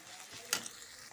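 Onion frying in oil with ginger-garlic paste, a bay leaf and dried red chillies, giving a soft steady sizzle with one brief louder burst as the pan is stirred.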